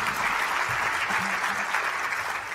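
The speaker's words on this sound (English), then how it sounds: "Give Jeremy a round of applause" A crowd applauds steadily in an indoor hall at a J Street event honoring its leader, a dense, continuous wash of clapping that holds for the whole stretch with no talk over it.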